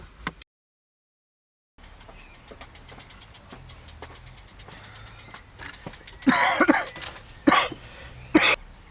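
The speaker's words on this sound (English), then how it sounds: "I didn't actually intend to cough there when I came on camera." A few sharp coughs and throat clears burst out near the end, loud and close, over a quiet background with a faint passing car.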